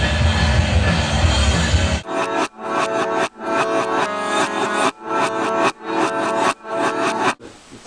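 A loud, thick Octavia octave-fuzz guitar plays choppy, rhythmic chords in short bursts with abrupt gaps, following a sustained noisy wash at the start.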